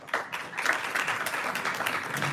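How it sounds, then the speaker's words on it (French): An audience applauding at the end of a Hanukkah lecture, with a dense burst of clapping that starts abruptly and holds steady for about two seconds, fairly close and alone. "Faut pas applaudir, c'est pas un spectacle, mais bon."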